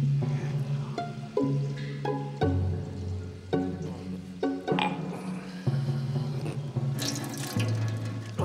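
Water poured from a glass into a basin, splashing and gurgling with uneven bursts and drips, close and steady, with no voices.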